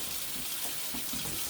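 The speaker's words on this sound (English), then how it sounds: "I'm going to turn my water on, let it run a little bit till it starts to get warm" Water runs steadily from a sink tap, a continuous hissing splash with no breaks, fairly close and even in level, with no voices over it.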